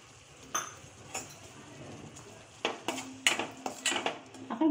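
Finely chopped onion and red chili paste being sautéed for fish curry, a spoon clinking and scraping against the pan in scattered taps, soft at first then busier and louder, with no talk.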